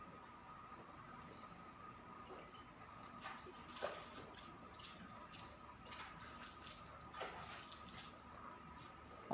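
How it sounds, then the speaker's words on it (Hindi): Hands being washed under running tap water, a faint, steady trickle with occasional splashes and soft clinks over a quiet background. "अभी मैं अपने हाथ वॉश कर रही हूँ"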